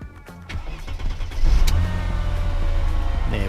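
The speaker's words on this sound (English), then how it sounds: "Ignition's on, and let's give it a start." A Mercedes engine cranks and starts, the motor catching about a second and a half in and then settling into a steady, close idle.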